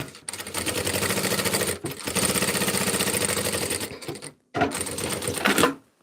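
Sewing machine running steadily while stitching a bomber jacket pocket strip right sides together at a narrow seam allowance, close and loud, with two short pauses and a brief restart near the end.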